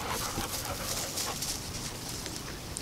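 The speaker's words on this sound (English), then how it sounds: "There's a big dog." A big dog whimpers and pants steadily at close range over a constant noisy background, with no talk.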